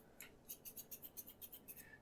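Scissors snipping in a soft-spoken close-up setting, a quick run of about eight crisp metallic snips in a steady rhythm, close and fairly quiet with no talk.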